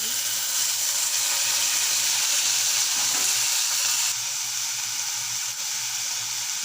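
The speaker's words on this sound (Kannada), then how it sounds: "ಈರುಳ್ಳಿ ಫ್ರೈ ಆದಮೇಲೆ ಕರಿಬೇವು ಹಾಕೊಳ್ಳೋಣ." Curry leaves and onions fry in a pan with a constant, close hiss of oil and a brief stirring clatter partway through.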